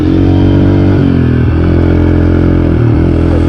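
Dirt bike, a Yamaha, ridden solo along a trail through deep dark woods, its engine droning loud and steady close by with a rattling clatter throughout.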